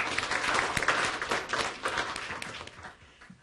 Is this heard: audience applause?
yes